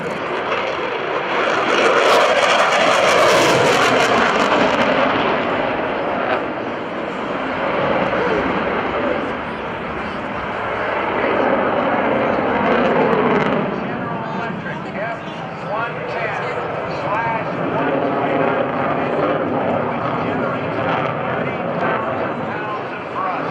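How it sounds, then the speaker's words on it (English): An F-16 Fighting Falcon from the 20th Fighter Wing flies past at the 2012 NAS Oceana Airshow, its loud jet roar swelling and fading over more than twenty seconds while an announcer talks over the PA. "This is the Viper, as they call it, from the 20th Fighter Wing at Shaw Air Force Base in Sumter, South Carolina. The F-16 Fighting Falcon."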